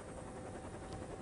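A helicopter drones steadily overhead with a continuous, even rotor and engine wash that stays at a moderate distance, no voices over it.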